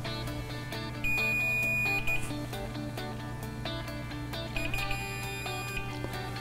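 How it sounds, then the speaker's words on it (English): Two sustained electronic multimeter continuity beeps while testing a dryer thermal fuse, the first about a second long and the second shorter, sounding over a steady low hum. "If the fuse is good, you'll hear an audible beeping noise"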